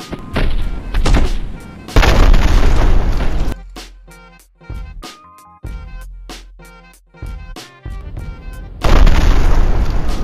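Grenade launcher blasts in the Cry Of Athena video game, several heavy booming thuds with deep low rumble, separated by sharp clicking and ticking gaps, loud and close.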